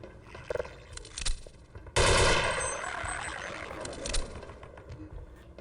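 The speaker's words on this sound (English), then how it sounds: "there's a lot of turrets around" Automated turrets in Half-Life: Echoes loosing a sustained, loud burst of rapid fire after a few scattered shots, the rattle continuing steadily with another sharp burst near the end.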